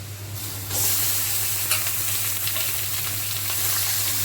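Chicken pieces added to a pan with ginger and garlic for an Assamese-style curry, a sudden loud burst of sizzling that settles into a steady, close frying hiss with faint stirring.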